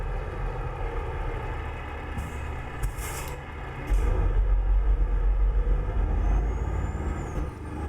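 A steady default truck engine drone in a truck driving game, driving a Scania S in a convoy, with a deep low rumble that swells louder midway, plus brief hissing bursts like air brakes.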